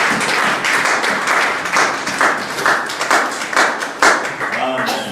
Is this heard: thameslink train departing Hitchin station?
no